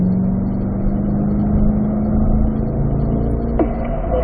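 A Corvette C8 on a race track holds a steady, loud engine drone throughout, with a sustained throttle tone and a brief rising whine near the end.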